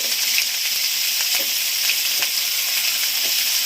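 Fish and pumpkin sauté in a hot pan with a steady, close hiss, and a few soft stirring clicks break through the continuous sizzle.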